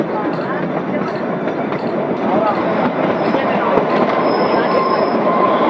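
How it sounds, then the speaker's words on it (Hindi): Narrow-gauge toy train on the Kalka–Shimla railway, a steady broadband rolling rumble of small carriages on narrow track with faint high squeals, close and continuous throughout. "ये ट्रेन है ना, नैरो गेज है, एक तो छोटी ट्रेन है, पटरी भी छोटा"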